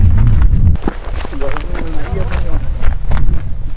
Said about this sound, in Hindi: बहुत तेज हवा चल रही है